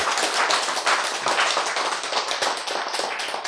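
A lecture audience claps together in a dense, steady burst of many hands, loud and close, continuing without a break for several seconds with no voices over it.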